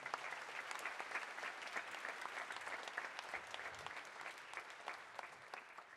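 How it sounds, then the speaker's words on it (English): Sustained audience applause at a steel band concert, dense steady clapping throughout, loud and continuous with a few scattered louder claps. "let's give a round of applause"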